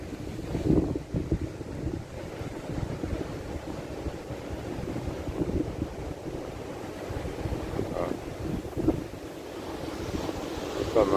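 Strong sea wind buffets the microphone over steady surf and breaking waves at an evening camp below a lighthouse at Sainte-Suzanne, a continuous loud roar with gusting peaks and no talk.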